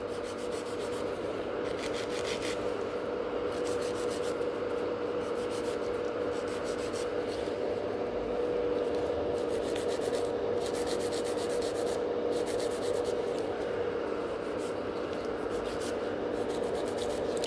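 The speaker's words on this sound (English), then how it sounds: "I would start with filing the free edge, blending any difference" A nail file works the free edge of gel nails in a salon, giving steady close rhythmic rasping strokes that repeat in quick bursts throughout, with no talking.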